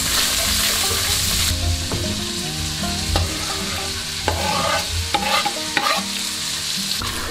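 Sausage dropped into a pot where bacon has already rendered its fat, frying loudly with a steady close sizzle and repeated stirring scrapes, no voices.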